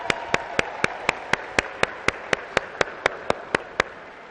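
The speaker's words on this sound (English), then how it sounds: "Clap it up for them." Audience applause for graduates at a Virginia College graduation ceremony in Columbus, Georgia: a steady wash of many hands clapping in a large hall, with sharp, evenly spaced louder claps punctuating it about four times a second, no talking.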